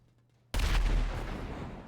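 Gunfire from the GTA RP game world: after half a second of near silence, a sudden loud burst of shots and impacts strikes close by, then a dense, slowly fading wash of noise follows.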